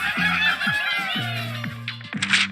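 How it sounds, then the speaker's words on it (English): Cartoonish bird squawks and chirps from the Angry Birds mobile game, a few quick honking calls with springy tonal sweeps, played close and alone at moderate level. "you pull out your phone and play a few games of Angry Birds"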